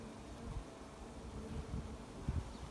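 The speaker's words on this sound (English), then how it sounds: "pretty packed with bees in here" Honey bees crowd a packed second deep box of a hive, giving a continuous low, close buzzing hum with small swells and no talk.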